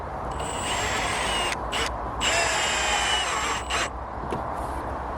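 A power drill drives screws into a fence panel at a corner post, two sustained high whirring runs with brief pauses between them and a short tap near the end, close and clear over steady outdoor background noise.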